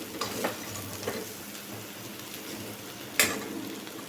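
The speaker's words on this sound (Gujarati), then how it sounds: "સતત હલાવતા રહેવાનું છે મસાલા ચડી ના જાય ત્યાં સુધી" Kankoda (spiny gourd) vegetable curry with spices being stirred in a pan, steady soft sizzling with a few scraping stirs and one sharper clank near the end.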